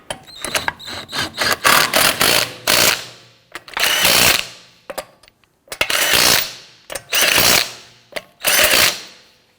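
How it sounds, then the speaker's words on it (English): Ratchet wrench snugging down wheel lug nuts on a 2017-2020 Hyundai Elantra, heard as several bursts of rapid clicking of varying length, some short and choppy, others sustained for about a second, close and fairly loud with no talking. "Once we get them all started, we're going to come back and snug them all down."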